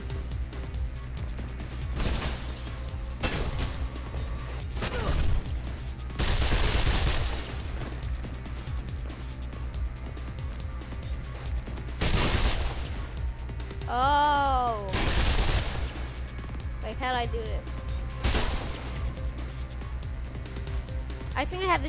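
Gunfire in the video game Mirror's Edge as a server is shot up, heavy bursts of automatic shots and loud impacts punctuating game music, with a voice talking over them.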